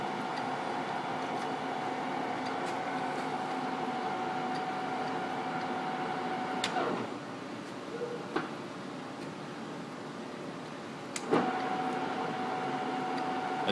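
A Timemaster/Gurutzpe 24"/34" x 160" gap bed lathe runs at a lower spindle speed with a steady, close mechanical hum and whir, a constant tone underneath and a few brief clunks and clicks.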